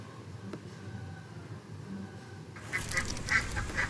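Ducks quacking in a yard, with a run of short, bright, repeated quacks at moderate loudness in the last second or so after a quieter stretch of outdoor background.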